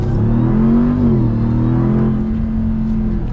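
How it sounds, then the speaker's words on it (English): A 2021 Ram TRX pickup truck accelerates at full throttle, its engine roaring loud and close in one continuous, climbing surge. "this full throttle, I mean, it's just stupid with the acceleration"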